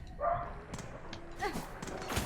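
An upset dog barks and yips in short, uneven bursts, some whining and higher-pitched, moderately close with a little background noise between outbursts.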